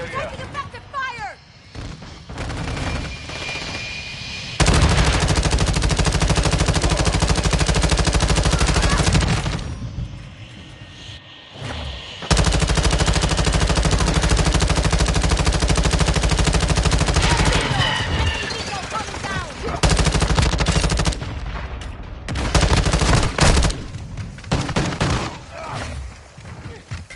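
Call of Duty Modern Warfare 2 battle gunfire: heavy, loud bursts of automatic fire and booming shots come in long stretches, dropping away between them, with radio-style voices talking over parts of the fight.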